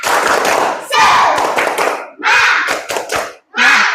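Students in a class chant and clap together in a rhythmic group routine, bursts of voices and hand claps coming in short separated phrases with brief pauses between them, loud and close.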